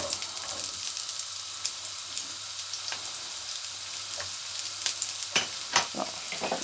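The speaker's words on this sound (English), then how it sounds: "to the oil that's eating nicely in the pan, we'll now have the onions and the spring onions" Onions and spring onions sizzle steadily in hot olive oil in a pan, a continuous close frying crackle with a few sharper pops and stirring clatters toward the end.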